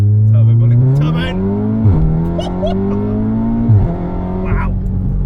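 A tuned VW Golf R Mk7 with a Stage 3 turbo setup accelerates hard and loud, its engine note climbing through gears with sharp drops at each shift, while a person speaks over it.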